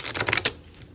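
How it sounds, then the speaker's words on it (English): Oracle or tarot cards are shuffled by hand in a quick burst of crisp, rapid flutter and clicks, close and fairly loud, then trail off into soft rustle. "and then I just shuffle them like that"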